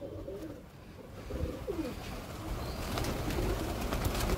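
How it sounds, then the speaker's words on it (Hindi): Pigeons at a pet keeper's loft coo in low, soft murmurs under a steady wash of background noise, with faint bird movement throughout. "बाकी आप लोग देख सकते हैं कबूतरों को"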